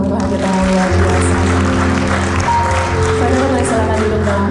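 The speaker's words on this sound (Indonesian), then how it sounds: "Kasih dulu tepuk tangan untuk Tuhan kita yang luar biasa." A church congregation at a Sunday worship service applauds in a sustained wash of clapping, layered over steady, held musical tones.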